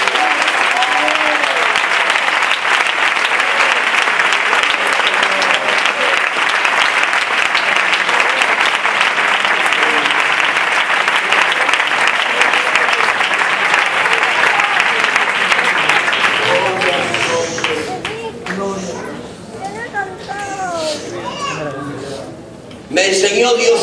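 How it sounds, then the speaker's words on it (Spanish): A church congregation claps and cheers at length during a Spanish-language sermon, dense sustained applause that thins out near the end with voices and children audible, then a sudden loud return. "Dale un aplauso para él."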